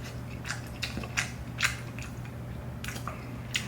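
Close-up biting and chewing of hood ramen noodles, with soft wet squishing and crunchy bites repeating in irregular bursts over a faint steady hum.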